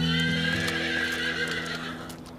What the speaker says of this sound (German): Sie haben doch keine Angst vor Pferden, ne?